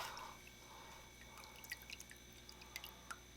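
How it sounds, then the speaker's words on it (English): Filter sponges from a 25-gallon aquarium being rinsed, heard as faint, sparse drips and trickles of water over a quiet background hiss, no voices. "So I'm going to take these out and rinse them off."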